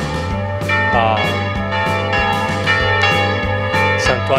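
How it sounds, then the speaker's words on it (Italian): Church bells peal in overlapping, rhythmic strokes near the Santuario della Verna, loud and resonant with long ringing tails and no speech. "rintocco delle campane ci saluta"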